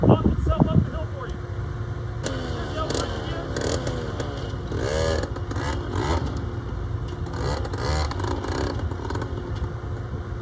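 A Yamaha BW80 dirt bike starts with a sharp burst, then its small engine revs and putters in uneven surges as it climbs a hill on its own, under almost constant talk from people nearby.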